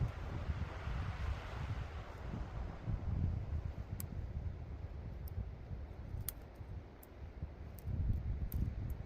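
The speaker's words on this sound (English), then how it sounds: "It's breezy out here, so it'll be kind of a pain to get things going" Steady wind blowing outdoors on a frozen lake during ice fishing, a low continuous rumble of gusts buffeting the microphone, with a few faint clicks scattered through.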